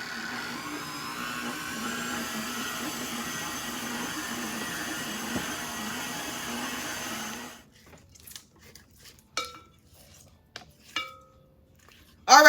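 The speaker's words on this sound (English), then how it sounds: "we're going to cream this until it's well blended" An electric mixer creams cream cheese, butter and packed light brown sugar for a Southern butter pecan cake, whirring steadily and loud for about seven seconds before cutting off, then a few scattered clinks and bumps follow.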